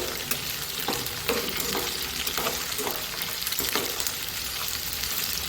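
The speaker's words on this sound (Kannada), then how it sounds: "ಬದನೆಕಾಯಿ ಇವಾಗ ಎಣ್ಣೆಯಲ್ಲೇ ಬೇಯ್ತಾ ಇದೆ" Black eggplant frying in oil over a low flame, a steady close sizzle with several soft stirring scrapes spread through, no voices.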